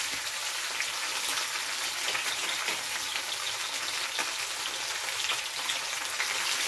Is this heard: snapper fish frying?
yes